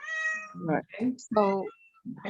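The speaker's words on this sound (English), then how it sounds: "That's my cat. that's gotta be." A pet cat meows a few times at a community board committee meeting held over a call, the harmonic cries rising over and between nearby speech.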